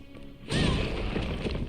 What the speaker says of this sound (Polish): Pierdolnięcie z młota w ścianę, to wystarczy.